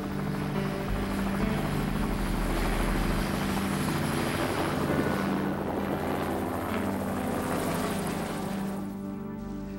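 A rescue helicopter flies overhead with a loud, steady rotor and engine roar that persists the whole time before easing slightly at the end.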